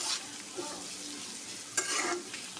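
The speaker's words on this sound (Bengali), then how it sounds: "এগুলো লাল লাল করে ভাজি নিবে এখন" Ingredients frying in a pan for an egg malai curry with coconut milk, with a soft continuous sizzle and a few brief scraping stirs, close but quiet.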